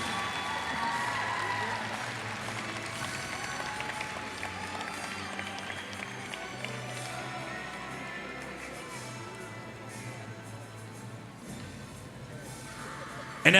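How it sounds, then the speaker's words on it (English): Audience applause fills a gym at the awards presentation for the 3A North boys region championship, a broad, even wash of clapping from a crowd that slowly tapers toward the end. "let's give a big round of applause"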